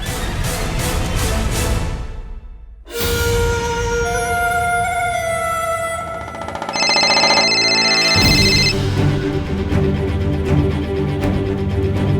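An electronic phone ring tone plays a repeating melodic pattern, steady and fairly loud, continuing without anyone answering or speaking.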